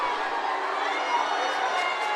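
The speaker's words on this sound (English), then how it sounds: "As you can tell, the GW crowd does not like that." Basketball crowd at a George Washington home game reacting to a no-call, a steady dense roar of many voices with shouting and jeering, loud and continuous throughout.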